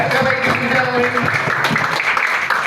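Audience applause for Gary Fernandez at an Iqon Elite Corporation business meeting: a steady wash of clapping that fills the room, mixed with a voice and some tonal sound near the start.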